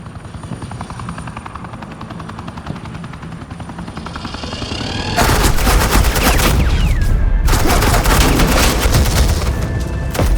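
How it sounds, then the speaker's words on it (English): Gunfire in Batman: The Enemy Within, suppressing fire over a steady helicopter drone: the rotor hum runs alone at first, then loud sustained bursts of shots fill the latter half. "This is Agent Quinn, suppressing fire"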